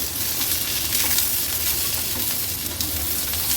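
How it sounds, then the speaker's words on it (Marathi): Green chillies frying in hot oil, a steady soft sizzle with a low crackling bed running continuously throughout, close and moderately loud, no voices. "1-2 मिनिटाकरता फक्त या मिरच्या मी व्यवस्थित या तेलावर अशा भाजून घेते"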